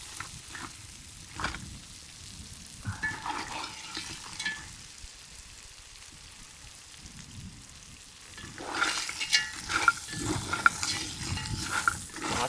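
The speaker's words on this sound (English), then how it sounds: "I'll keep stirring it for a while and then I'll fall back" Spicy curry crabs stirred and frying in a pot outdoors on a Jamaican beach, a steady sizzle with scraping stirs that swell louder toward the end.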